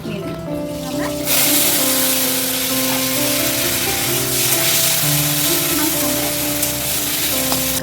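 Onions and four chillies sauté in a pan for a quick mushroom masala, a steady close sizzle bursting in after about a second and continuing over low tonal background sound.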